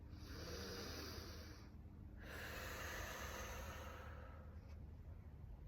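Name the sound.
deep breaths in through the nose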